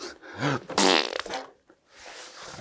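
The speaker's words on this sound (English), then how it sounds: "Fart sound." A comedic fart sound effect, a loud, wet, sputtering burst with rising tonal squeaks that breaks into a long raspy blast before trailing off into a softer hiss.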